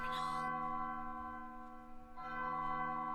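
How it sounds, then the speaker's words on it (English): A bell chimes in the Judgment Hall of a video game, struck twice with a long, ringing sustain between the strikes, steady and clear, with no one talking over it. "A bell chimes announcing your arrival."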